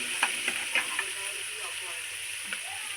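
Boiled corn tipped into onions frying in a pan, a soft steady sizzle broken by a few light clicks and stirring taps at the start.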